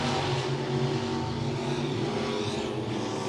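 A Midwest Modified race car laps the Monett Motor Speedway oval, its engine a loud continuous roar that holds steady at high revs and shifts slightly as it passes.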